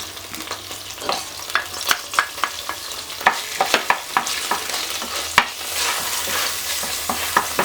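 Chopped garlic sizzling in drained tuna oil and olive oil with thyme, a steady hiss broken by frequent sharp clicks and pops of spatula stirring, close and fairly loud throughout.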